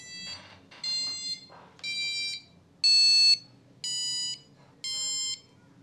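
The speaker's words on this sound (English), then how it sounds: "You can with the buzzers make a sound" An Arduino passive buzzer beeps in short tones, six bursts with brief gaps, some notes higher than others, clear and close against quiet background hum.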